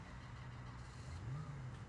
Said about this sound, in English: Callum Marshall driving this insane sounding E36 BMW